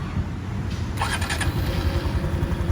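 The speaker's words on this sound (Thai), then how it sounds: "แต่ผมลองสตาร์ทดูเนาะว่ามันเป็น เสียงแบบไหนนะครับ เครื่องยนต์บล็อกใหม่นะครับ" A 2020 Honda Super Cub's new engine cranks and catches about a second in, settling into a quiet, steady low idle under constant background rumble.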